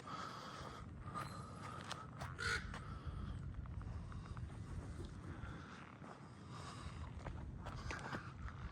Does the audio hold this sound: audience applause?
no